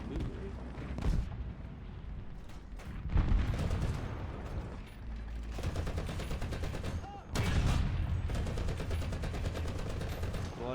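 Tank cannon shots boom in a tank video game, with loud repeated blasts and rattling gunfire packed densely across the whole stretch, one burst following another without a real pause.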